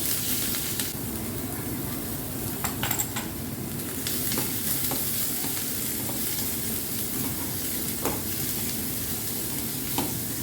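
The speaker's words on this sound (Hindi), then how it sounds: "दो से 3 मिनट के लिए प्याज को भून लेते हैं ऑयल में।" Chopped onion fries in two tablespoons of oil in a kadai, a steady dense sizzle running throughout with occasional stirring clicks and scrapes, close and fairly loud with no talking.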